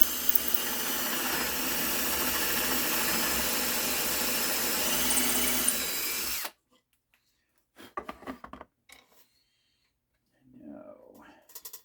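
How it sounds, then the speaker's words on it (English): A power drill whirs steadily and loudly while drilling into a tablet holder for about six seconds, then stops abruptly, leaving quiet with scattered brief handling clatter. "we drill away."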